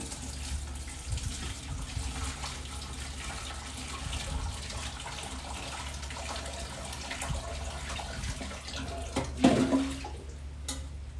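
Tap water runs steadily into a kitchen sink while cashews are rinsed and stirred in a bowl, a continuous close wash of noise with a brief louder splash near the end.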